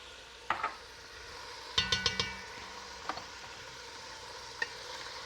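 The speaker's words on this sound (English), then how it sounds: "We're just going to let this cook over medium heat until that hamburger meat is cooked." Hamburger meat and garlic cook in a pot over medium heat, with a soft steady sizzle under a few sharp clinks of a utensil stirring against the pot.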